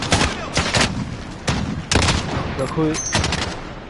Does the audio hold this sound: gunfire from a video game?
yes